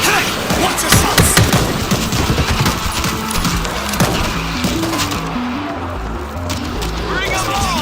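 Dense automatic gunfire in the zombie shooter World War Z: rapid, loud bursts of shots packed together, with shouted in-game voice lines and rumbling action layered over the shooting.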